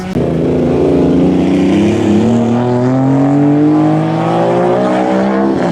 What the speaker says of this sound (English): This is the first time with that new single turbo, first run.